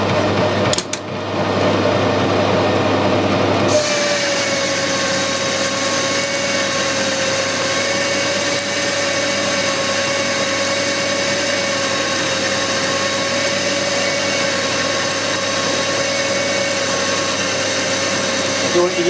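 A metal lathe takes a 50 thou cut off a metal bar. After a brief quieter start, a loud, steady whirring drone with a thin whine kicks in at about four seconds and runs unbroken to the end.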